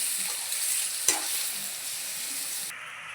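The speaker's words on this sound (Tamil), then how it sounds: "தண்ணி ஊற்றி வேக வைக்கணும்." Water goes into a pan of frying chicken curry as it is stirred, giving a steady close sizzle with a brief scraping clatter partway through.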